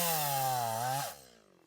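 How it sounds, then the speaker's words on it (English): A chainsaw strains through very heavy, hard wood near a woodland cabin. The loud, close motor whine sags in pitch as it bogs down, then drops away and idles. "We definitely need something that we can use to lift this stuff up and a more powerful chainsaw."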